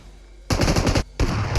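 Two quick bursts of automatic gunfire in PUBG Mobile, loud and close, each lasting about half a second with a short pause between them.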